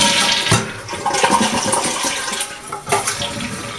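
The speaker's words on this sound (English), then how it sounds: "we're going to go ahead and flush the unit." A Greenco non-electric mechanical bidet seat on a toilet is flushed, giving a loud, steady rush and gurgle of water that swells and dips across the clip, with no talking.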